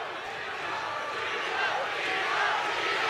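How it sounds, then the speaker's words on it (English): A crowd roars at a fight late in the third round as one fighter hurts the other, a dense, steady cheer that swells slightly toward the end under a commentator's voice. "Crowd coming alive."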